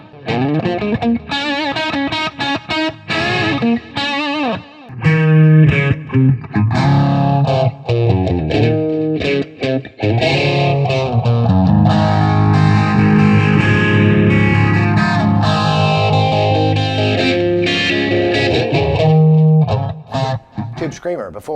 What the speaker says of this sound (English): Why don't we hear it with a little delay?